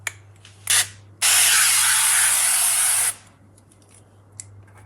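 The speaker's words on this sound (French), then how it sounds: "un spray comme ça pour le air fryer, donc c'est de l'huile" Oil spray hisses onto four slices sitting in an air fryer: a short puff, then a sustained loud spray lasting about two seconds, followed by quiet with faint handling clicks.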